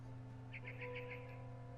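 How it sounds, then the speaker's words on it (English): A barn swallow chirps in the video game What Remains of Edith Finch, a quick run of about five faint, bright twitters over a steady low hum of game ambience. "Then I heard chirping outside my window."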